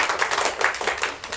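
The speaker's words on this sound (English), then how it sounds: "Maybe a quick round of applause for me." A short, close burst of loud audience clapping at an exhibition launch and panel discussion, with uneven, rapid claps for just over a second.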